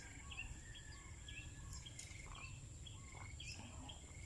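Several birds chirp and call repeatedly at a moderate distance over a faint, steady outdoor hum of insects, with no talking.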